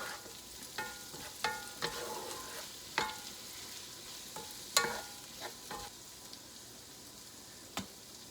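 Garlic fries in a pan, a quiet soft sizzle punctuated by repeated sharp spatula scrapes and taps as it is stirred, close by with no speech.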